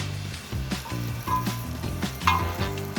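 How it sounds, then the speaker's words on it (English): Fish balls sizzle and crackle steadily on a hot grill, close up, with a faint background tone and no talking. "you can actually hear the sound of the sizzling sound from this food."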